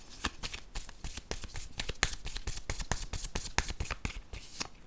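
Tarot cards being shuffled by hand, a close, quiet run of rapid papery riffles and slaps in an even rhythm, continuing without speech.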